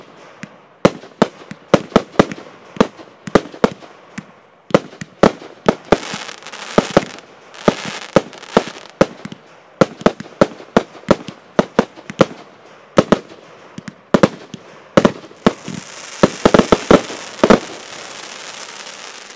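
Fireworks cake called Defender firing a rapid string of about 25 loud, sharp shots in irregular bursts, each bang trailing crackle, with a dense crackling shower near the end.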